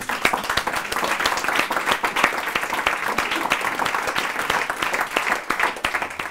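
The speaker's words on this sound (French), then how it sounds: "et que je vous demande d'applaudir." An audience at a live jazz and hypnosis stage show claps loudly and continuously, a close, dense patter of many hands with no talking over it.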